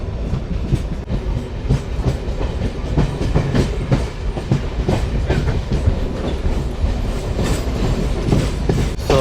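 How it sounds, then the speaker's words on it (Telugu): A passenger train pulls out of Chityala station on the Secunderabad–Vijayawada line, its wheels beating a loud, continuous clickety-clack with heavy rumble heard close from on board. "ట్రైన్ చిటియాల నుంచి అయితే బయలుదేరిపోయింది"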